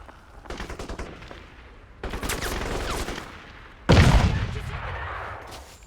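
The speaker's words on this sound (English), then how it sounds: "Grenades going off everywhere." Gunfire bursts and grenade explosions from the video game Crysis, rattling volleys followed by a loud, close boom near the end, with faint voice under the combat.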